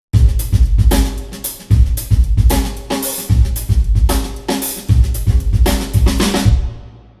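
A punchy, drum-heavy music sample processed with an Ocean Way Studios room re-miking plugin, with loud rhythmic hits and bright cymbal wash in a steady groove and a roomy ambience before it cuts off.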